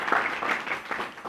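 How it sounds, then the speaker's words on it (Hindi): Audience clapping at a lecture event, a short steady burst of applause from a crowd of listeners filling the hall at moderate level. "सभी लोग ताली बजाओ"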